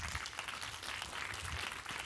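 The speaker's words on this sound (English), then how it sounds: "let's give him a round of applause" Applause from a tech-talk audience greeting the final speaker, a soft, distant patter of many hands clapping in a hall, steady and unaccompanied by talk.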